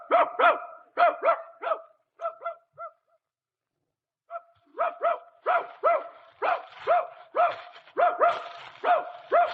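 A hunting dog on a radio drama barks in quick bursts of two or three, close and loud, stopping for a second or two before resuming in a steady, rapid series of barks.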